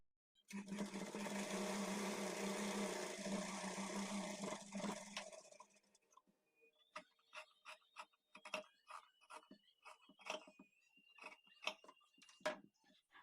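Sewing machine stitching the side joint of a blouse, a steady close whirring run of about five seconds, then a series of short clicks and taps as the fabric is handled and adjusted.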